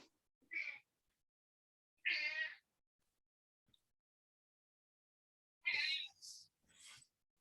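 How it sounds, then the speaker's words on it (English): A cat gives several distinct meows in near silence, spaced a second or two apart, the last ones a quick double call, fairly close and clear. "I'm hearing like a cat, I think."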